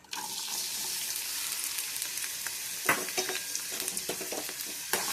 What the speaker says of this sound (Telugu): బాణీలో కొంచెం నెయ్యి వేసుకొని ఒక కొబ్బరి ముక్కలు, జీడిపప్పు, కిస్మిస్ లేపుకుందాం ఫ్రెండ్స్.